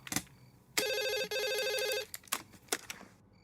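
A telephone rings with a loud electronic trilling burst lasting over a second, followed by scattered clicks and knocks in a quiet room, with no one speaking.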